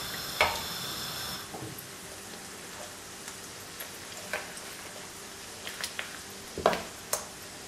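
Pizza dough laid into a pan of vegetable oil gives a soft, steady frying sizzle, with scattered light taps and clicks of a utensil spreading it, close and fairly quiet.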